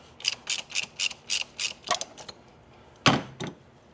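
A ratchet turns a 32 shallow socket on the plastic oil filter cover of an HHR, with about ten quick, even clicks, then a louder snap near the end, close up and quiet.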